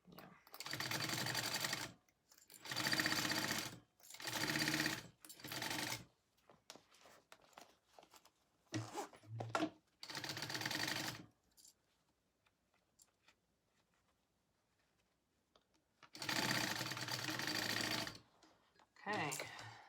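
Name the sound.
sewing machine stitching a wallet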